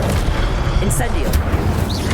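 An Incendio fire spell blast in the Hogwarts Legacy video game, a loud burst of booming, crackling noise amid busy combat sounds, with a voice shouting over it.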